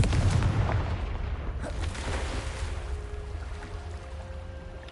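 Spell effects cast in a Hogwarts video game: a dense, booming rumble of fiery blasts and bursts, loudest at the start and then rolling on steadily with no speech over it.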